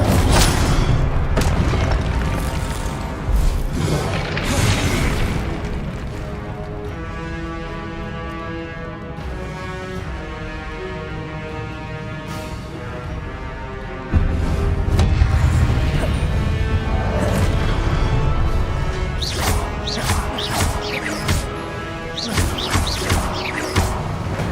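Confringo blasting spells exploding in Hogwarts Legacy, repeated heavy booms and crashing impacts over a dense, continuous game soundtrack with music, with a louder cluster of blasts in the second half.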